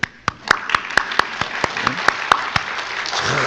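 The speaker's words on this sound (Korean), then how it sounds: "그런 의미에서 우리 성가대의 박수." A church congregation applauds its choir during a Sunday revival service, with a loud burst of clapping. Sharp individual claps stand out at first and thicken into fuller applause that carries on to the end.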